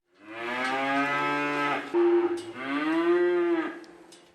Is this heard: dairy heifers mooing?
yes